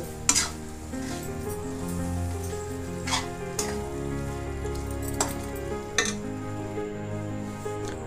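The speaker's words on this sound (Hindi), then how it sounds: "बाकी हम यहाँ पे इसको अच्छे से मिक्स कर लेते हैं" Lauki barfi mixture of grated bottle gourd being stirred in a pan, a steady scraping stir with soft sizzling and a few sharper clinks of spoon against metal, fairly close and continuous without talk.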